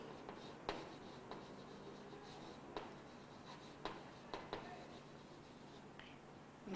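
Marker or chalk writing on a classroom board, soft scratchy strokes broken by sharp taps as each stroke begins, quiet and steady with no talking.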